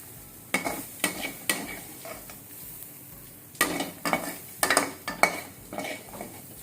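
Mutton sukka masala fries in a pan while being stirred, with a faint steady sizzle beneath irregular sharp scrapes and clinks of a spoon against the metal, close and fairly loud.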